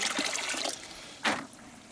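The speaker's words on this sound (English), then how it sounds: "pour it on my plants a little bit at a time" Compost tea poured from a bucket onto garden plants: a short splashing trickle of liquid hitting foliage and soil, followed by a second brief, louder pour, close by with no talk.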